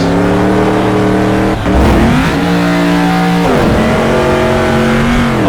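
A SuperTruck engine in the racing sim Automobilista roars loudly and close, holding a steady high drone that drops briefly and climbs again through shifts in pitch, with no voices over it.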